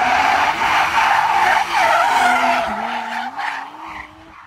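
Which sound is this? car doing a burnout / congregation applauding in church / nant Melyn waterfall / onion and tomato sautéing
car doing a burnout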